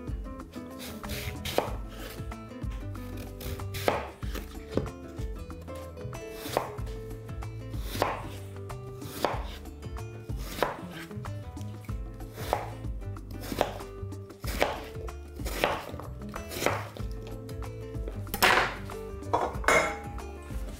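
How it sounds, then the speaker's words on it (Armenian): Knife chopping apples into cubes on a board for an apple pie, a steady run of sharp, evenly spaced knocks, close and fairly loud, with no talking. "Եվ կտրատում ենք խորանարդիկների։"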